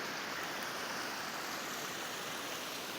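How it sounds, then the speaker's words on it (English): A massive waterfall at the Grand Canyon rushes in a steady, dense roar of broadband water noise that holds constant throughout, with no voices. "see if we can get a better view of that massive waterfall"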